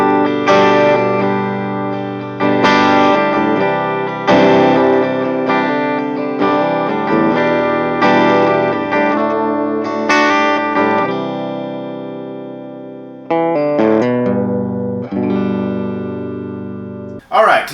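A Gretsch G5120 electric guitar on its bridge pickup, through a clean Vox Night Train amp, rings out strummed chords and picked notes with sharp attacks, loud and up close.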